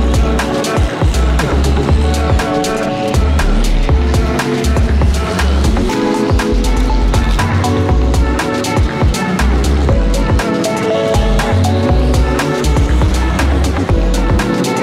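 LMP prototype race cars at Le Mans, passing in a loud, continuous engine roar with layered pitches that swell and fade as the cars go by.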